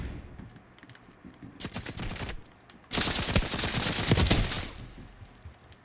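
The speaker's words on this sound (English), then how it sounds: "nail gun" Rapid bursts of nail gun fire in the Black Ops 7 video game, a loose volley of sharp shots around the two-second mark, then a louder, denser sustained barrage of repeated firing through the second half.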